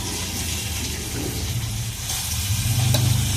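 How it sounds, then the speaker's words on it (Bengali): Pieces of broiler chicken meat hit a hot pan, giving a steady loud sizzle and frying hiss with light stirring and clatter close by, growing a little louder at the end. "আমি মাংসটাকে দিয়ে দিচ্ছি।"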